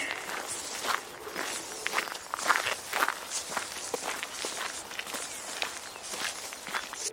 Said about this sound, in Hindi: उसी समय बहुत दूर से किसी के पैरों की आहट सुनाई देती है।